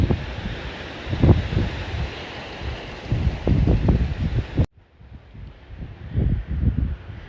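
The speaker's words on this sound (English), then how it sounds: "so you hear the wind blowing. It's kind of a really windy day" Wind gusts outdoors on a very windy day, rumbling and buffeting against the microphone in uneven bursts, dropping away briefly before rising again.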